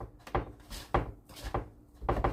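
Fish sticks tapped against a surface to knock off excess flour or egg coating, four soft close knocks spaced about half a second apart, with no talking.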